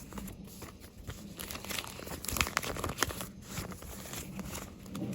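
Old World War II airforce letter paper from 1943, previously opened by censors and bearing old tape, being unfolded and handled, with close crinkling and rustling that swells in the middle, then continues softly throughout.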